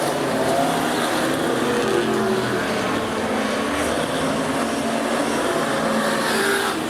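Super stock race cars, among them an all-white Ford Cortina, roar past the main grandstand at Rockhampton Speedway, a loud, steady engine wash that holds at full volume the whole time with no break.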